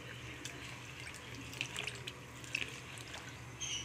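Tamarind water poured into a pot while cooking a Tamil lunch, a continuous gentle splashing trickle, close and moderately quiet, with no speech.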